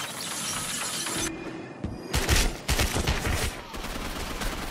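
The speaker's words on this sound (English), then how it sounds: "Oh god, what is that, a turret?" A turret in a Gotham action video game fires rapid bursts of gunfire, loud and close, with mechanical rattling between volleys and no talking.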